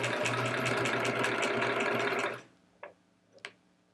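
A sewing machine quilts the border of a Splendid Sampler quilt, running in a steady fast stitching rhythm for about two seconds before stopping, followed by a couple of faint clicks.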